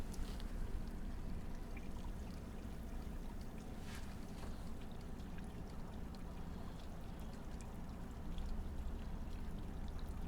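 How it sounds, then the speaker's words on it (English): Small water fountain at Rockport Country Club, a soft, continuous splashing and trickling wash heard from a distance, steady and low with no voices. "I see that little water fountain is on."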